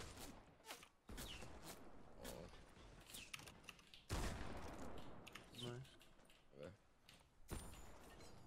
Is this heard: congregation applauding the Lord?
no